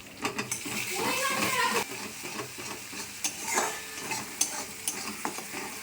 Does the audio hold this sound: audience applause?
no